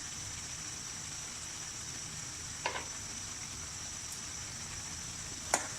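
Chopped green chillies sizzling in a pan of aloo gobi matar sabzi: a steady, faint frying hiss with a couple of brief clinks of a utensil.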